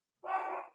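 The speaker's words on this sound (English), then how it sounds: "By the way, I apologize for any barking in the background." A single short dog bark sounds indoors in an apartment, muffled and moderately quiet, alone without talk.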